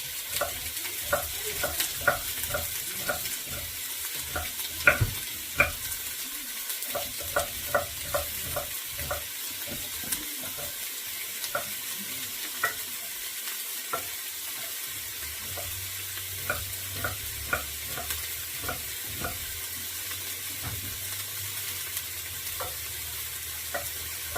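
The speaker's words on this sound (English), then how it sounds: "start the process of sauteing those" Onions and peppers sautéing in a hot pan for chili, with continuous sizzling and repeated clicking stirs and scrapes of a utensil, a low hum joining later on.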